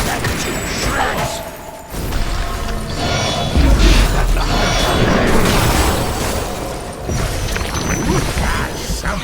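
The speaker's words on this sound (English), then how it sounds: "You've destroyed an enemy tower." An enemy tower crumbling in the Heroes of Newerth battle arena game: a heavy, drawn-out crash and rumble of breaking structure with clanking mechanical noise, loud and sustained, with a game announcer voice over part of it.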